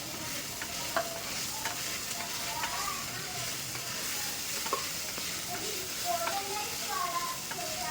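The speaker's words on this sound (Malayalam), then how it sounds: "അതിലോട്ടേക്ക് നമ്മൾ നേരത്തെ പൊടിച്ച് വെച്ചിരിക്കുന്ന സ്പൈസസ് ഇട്ട് കൊടുക്കും" Ground spices tossed into a hot pan of beef for a vindaloo sizzle and fry steadily, with light stirring scrapes and small pops throughout, close and continuous at moderate level.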